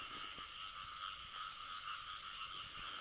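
Frogs croak at night in a rural Thai wetland, a dense, steady chorus of many calls layered into a continuous buzzing drone, with a few faint nearby taps and rustles underneath.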